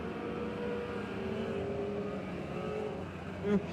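Micro sprint race cars at a speedway, heard as a steady, loud engine drone with layered revving tones and a brief swell near the end, under light background noise.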